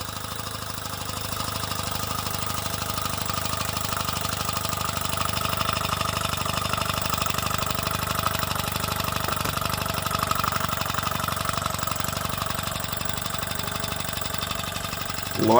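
A miniature steam engine running under load from a generator-powered lamp chugs steadily with a continuous mechanical hum and rhythmic knocking, running evenly at moderate volume for the whole stretch.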